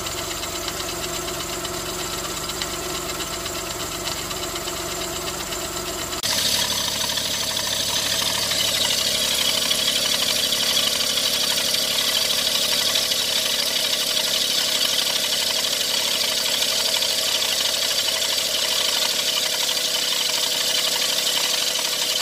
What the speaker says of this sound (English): we'll be investigating a noise that's coming from the engine of the Every.